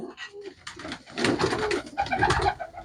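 Pigeons coo in repeated, throaty bursts close by, loud and steady over the whole stretch with no talking.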